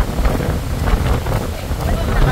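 Strong wind blows at Bulabog Beach in Boracay, a steady loud roar buffeting the microphone, with surf faintly mixed in throughout.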